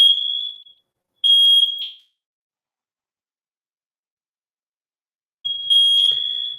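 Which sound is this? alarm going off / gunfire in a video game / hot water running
alarm going off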